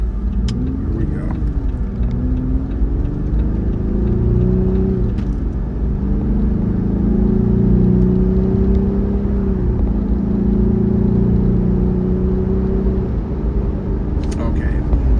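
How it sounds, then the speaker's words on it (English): A Jeep Wrangler fitted with a new intake pulls away from a stop onto a 55 mph road, its engine rumbling and rising through several gear changes from inside the cabin. "So now we're going to jump from a stop out onto 55-mile-an-hour road."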